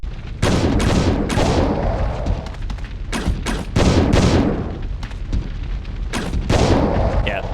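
Explosive arrows fired in Resident Evil Code: Veronica burst in a rapid string of loud, booming blasts, several close together with short gaps, while a voice talks over parts of the barrage.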